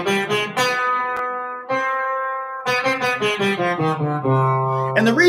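Electric guitar plays a C harmonic minor scale, clear single notes stepping through the scale with the raised leading tone, sounding alone without talk.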